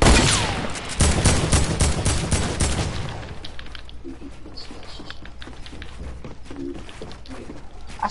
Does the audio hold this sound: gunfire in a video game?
yes